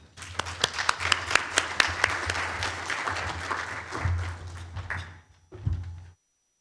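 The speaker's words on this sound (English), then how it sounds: "let's give a warm round of applause for Proud of Them alumni, Cassidy Davis Quintero." A gala audience claps in warm applause, dense and fairly close, with a few sharp individual claps standing out, then fading into a couple of soft thumps before silence.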